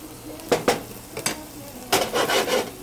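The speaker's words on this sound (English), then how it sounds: "Go ahead and mix it up and cook it, saute it." Onion and tomato being stirred and sautéed over medium heat in a pan, with a few scraping stirs and a soft, steady sizzle rising near the end, close and moderately loud with no talking.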